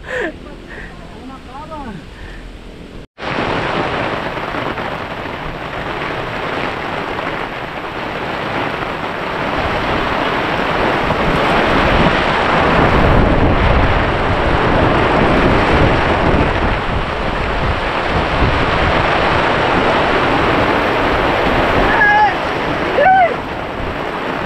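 Heavy rain pours down suddenly after a few seconds of quieter ambience, a loud dense roaring hiss that swells and stays steady, with voices and cheering faintly mixed in.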